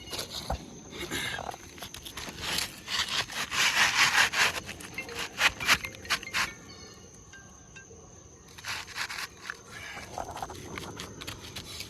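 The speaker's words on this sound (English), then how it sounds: "So next step is we are gonna slide a new shingle in here." A new asphalt roof shingle slides into place under other shingles in a valley of a house roof, giving repeated close scraping and rubbing strokes, with brief pauses between pushes and faint outdoor insect chirps behind.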